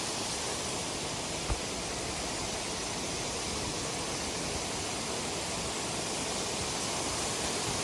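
Barnes Creek in Chattahoochee National Forest, Georgia, rushing steadily as a dense, even broadband wash of flowing water, close and continuous, with no voices.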